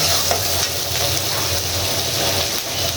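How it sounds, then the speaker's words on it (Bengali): Noodles fry with tomato and chili sauce in a pan, giving a loud, steady sizzle broken by faint stirring, close up and with no voices. "নেড়ে ছেড়ে দিচ্ছি।"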